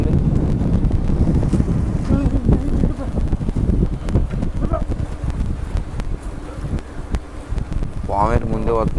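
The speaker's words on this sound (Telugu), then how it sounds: "చాలా అంటే చాలా గాలి ఉంది కదా" Strong wind buffets the microphone outdoors near fishing nets at the water, a loud rumbling roar that gusts steadily throughout, with a voice briefly heard toward the end.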